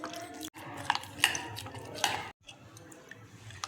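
Cornflour and plain flour batter being stirred with water, a close, soft scraping and clinking of spoon against bowl repeating in an uneven rhythm, with a few brighter taps on the rim.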